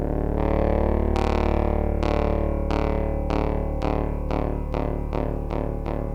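A Moog Grandmother synthesizer plays a sustained tone while the mod-wheel LFO makes a bouncing effect into its spring reverb. Bright plucked pulses repeat and speed up steadily over a constant drone, each pulse decaying into a metallic reverb tail.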